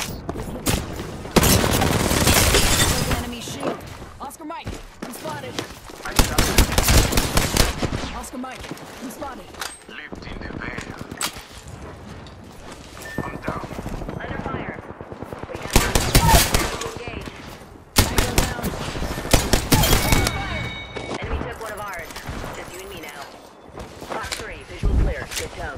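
Gunfire in a squad shooter video game: loud, dense bursts of automatic fire and single shots crackle almost without a break, with players talking over them.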